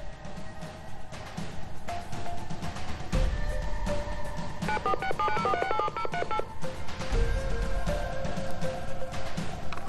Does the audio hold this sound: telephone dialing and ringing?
yes